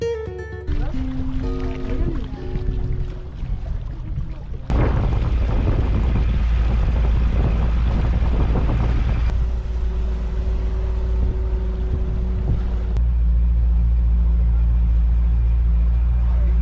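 Motorboat ride through the Bhitarkanika forest mangrove waterways, a loud steady engine drone with wind buffeting the microphone, continuous and close throughout.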